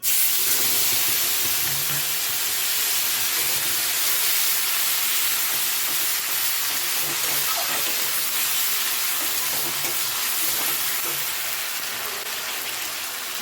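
Mashed onion paste hitting hot oil tempered with black cumin seeds in a pan, giving a steady, loud broadband sizzle and hiss that holds throughout and fades slightly at the end, with no talking.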